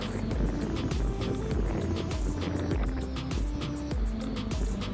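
An Eachine E58 camera drone flies gustily in the wind, its steady propeller whine blended with rushing wind buffeting throughout, fairly faint and continuous.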